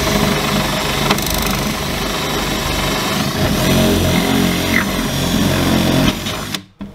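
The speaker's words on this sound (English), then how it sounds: "then we'll take the other drill and drill us a hole in the back right up under the shelf" A power drill bores a hole through the back of a gun cabinet just under a shelf, a loud, continuous whirring grind close to the microphone that runs for about six seconds before cutting off abruptly.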